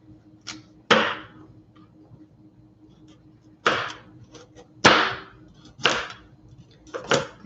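A kitchen knife chops through hard carrots on a cutting board in sharp, separate thwacks, about half a dozen at an irregular pace, close and crisp against a quiet room.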